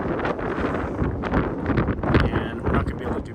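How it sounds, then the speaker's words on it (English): Strong wind buffets the microphone in a steady, rumbling roar with gusty surges throughout. "of course it's extremely windy here"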